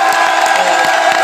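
A crowd at a live event cheers and applauds loudly, a brief burst of continuous whooping and clapping up close.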